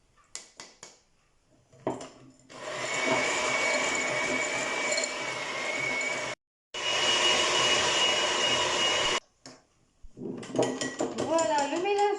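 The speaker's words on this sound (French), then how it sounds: "je vais battre les jaunes d'œufs avec le sucre jusqu'à ce que le mélange blanchisse" An electric mixer beats egg yolks with sugar for tiramisu, running as a loud steady whir in two long stretches broken by a short pause, with clatter and a voice before and after.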